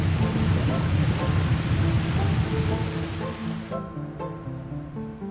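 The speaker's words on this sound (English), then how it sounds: "Looks like it triggered some sort of water release valve." Water gushing from a triggered release valve in a video game, a loud broad rushing roar over low musical tones that eases off and quiets after a few seconds.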